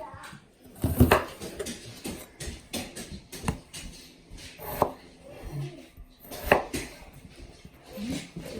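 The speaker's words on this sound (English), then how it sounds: "this is how I cut my potatoes" A knife chops potatoes into squares on a cutting board, giving a handful of irregular thuds and clacks close by, with faint background noise between strokes.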